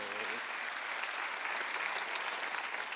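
A church congregation clapping together during a Thanksgiving Sunday sermon, a continuous, even roar of many hands at fairly close range with no pauses.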